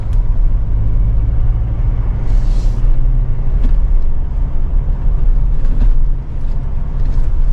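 Mahindra Thar Roxx off-roader cruising steadily in third gear, a continuous low engine drone and road rumble from inside the cabin with faint brief clicks over the top.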